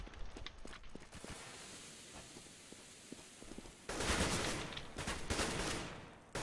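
Bursts of rapid video game gunfire crackle in a fast, dense volley, loud and close, with scattered single shots before and after.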